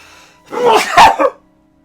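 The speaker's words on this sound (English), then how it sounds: "I'm going to sneeze." A single person's sneeze rings out close and loud, a sharp inhaled build-up followed by two explosive bursts, then quiet.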